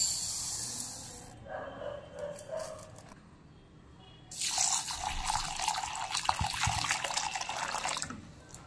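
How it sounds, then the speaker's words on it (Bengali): Red lentils (masoor dal), 150 grams, rinsed under running tap water in a sink: two bursts of splashing and swirling water, a short one near the start and a longer, louder stretch later, with no talking. "তো প্রথমে ডালটাকে ভালো করে ধুয়ে নিতে হবে।"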